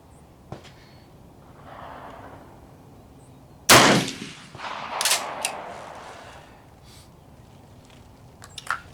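A single sharp gunshot cracks loudly at an outdoor shooting range, followed by a few quieter bursts and handling noises against faint background hiss.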